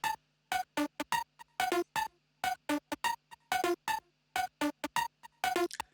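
Quick plucked synth notes play alone in a bouncy rhythm, short bright stabs jumping between high and low pitches with brief gaps of silence.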